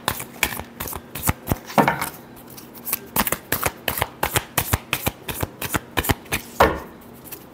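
Tarot cards being shuffled by hand at a love-reading session, a close, crisp run of rapid riffling flicks and soft slaps with a couple of louder bursts, no voices over it.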